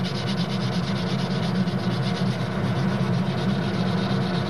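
Light, steady sanding on a model airplane part, a continuous close rasping rub with no breaks and no talk.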